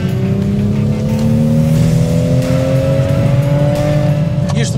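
A deep, full-bodied 3.0-litre six-cylinder B58 engine in a Toyota Supra hums steadily, its pitch rising slowly as it revs, with faint chatter in the background.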